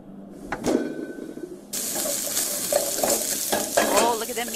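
Meatballs frying in a pan, a steady crackling sizzle that swells suddenly partway through with bursts of spattering, close and moderately loud.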